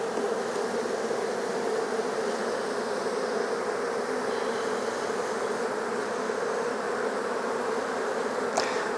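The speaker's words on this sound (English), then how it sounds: "I don't know if you're picking up on the sound of the roar of this hive, but they are roaring because they're bringing in" Honeybee hive roaring at the end of the day as foragers land, a dense steady buzzing drone that stays continuous throughout, close and fairly loud.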